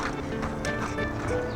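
A horse jogging in a circle, its hoofbeats sounding as quick rhythmic clip-clops close by, with a faint whinny-like tone.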